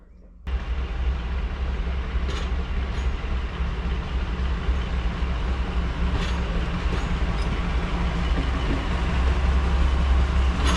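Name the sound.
heritage diesel locomotive train running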